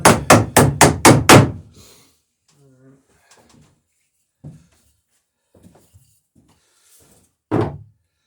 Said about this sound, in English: Had one nail drop out while I was hammering the others in.